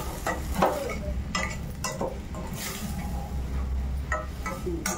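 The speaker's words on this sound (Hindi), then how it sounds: "अच्छे से चला दूँगी, सारा मसाला मिल जाएगा।" Spices being stirred into a green tomato curry in a pan, with steady sizzling and frying under repeated scraping and clinking of a spoon against the pan, close and continuous.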